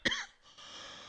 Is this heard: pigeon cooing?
no